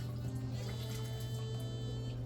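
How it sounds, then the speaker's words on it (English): Water pours into a pot of potato soup with a soft, continuous liquid splash under a low, steady background hum, quiet and close. "I'm going to add some water."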